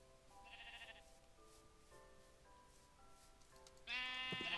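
Sheep bleat in Minecraft, a few short wavering calls rising over a steady game background, one near the start and a louder, closer bleat at the end.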